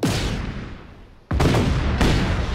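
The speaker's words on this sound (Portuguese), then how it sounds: "Olha a explosão." Grenade blasts in the video game Just Cause 3: one heavy boom fading away, then two more sharp, loud explosions in quick succession near the end, with no talk over them.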